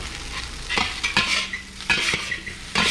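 Rice frying in a little oil in a hot pan, a steady sizzle broken by several sharp bursts as it is stirred, close and fairly loud with no voices.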